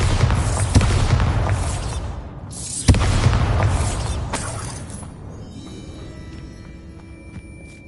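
Bombarda spell explosions in the Hogwarts Legacy video game: two loud, booming blasts a couple of seconds apart, each trailing into rumbling debris, then fading to a quieter mechanical hum.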